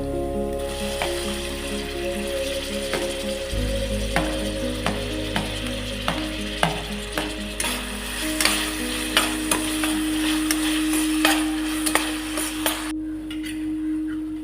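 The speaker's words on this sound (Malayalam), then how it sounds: "അടുത്തതായി ഞാൻ ടൊമാറ്റോയും ഗ്രീൻ ചില്ലിയും കൂടെ ഒരുമിച്ചിട്ട് കൊടുക്കുകയാണ്." Tomato and green chilli sautéing in a pan for tomato rice, a continuous sizzle with repeated spatula scrapes and taps against the pan, near and clear, with a low steady hum underneath and no talk.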